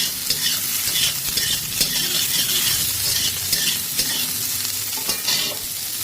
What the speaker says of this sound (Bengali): দেখুন বন্ধুরা ফুলকপিটা কিন্তু আমাদের ভাজা হয়ে গেছে